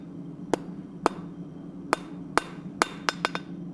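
Blacksmith hammer striking metal on an anvil during forging, eight sharp ringing blows at irregular intervals that quicken toward the end, fairly faint over a steady low hum.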